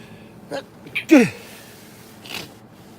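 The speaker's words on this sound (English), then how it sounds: "I got to sneeze." A quick sneeze, sharp and close, preceded by a couple of brief breathy sounds, with a softer exhale trailing after.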